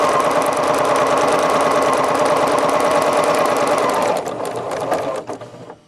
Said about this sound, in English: lower my presser foot so that the edge of the paper is lined up with the edge of my presser foot, and I'm going to sew.